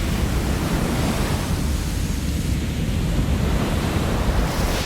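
Huge ocean waves break in a big-wave surf scene, with a steady, roaring wash of surf and wind noise that stays loud and dense throughout, with no voices.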